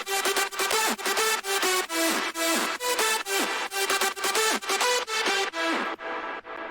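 Bright, EQ'd synth leads from an electronic track, with low end cut away, play a loud, steady rhythmic run of repeated notes and pitch slides, alone with no voices.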